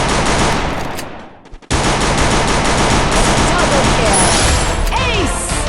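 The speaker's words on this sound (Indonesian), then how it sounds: "Lihat nih, di sini gua berusaha nembak musuh," Gunfire from shooting at enemies with a SCAR in a video game: loud, dense automatic bursts that stop briefly and then resume, filling the clip.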